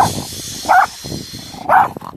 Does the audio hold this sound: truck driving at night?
no